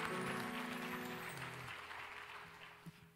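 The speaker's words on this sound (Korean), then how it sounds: "다시 한번 서로를 향해 큰 사랑의 박수 나누겠습니다." Congregation applause at a Korean young adults' church worship service, broad clapping under sustained organ or keyboard chords that fade out over a few seconds.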